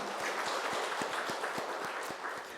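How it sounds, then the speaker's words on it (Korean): A church congregation at a Korean Sunday service applauds in a steady patter of claps, faint and somewhat distant, with no talking over it. "박수 한번 쳐주시기 바랍니다"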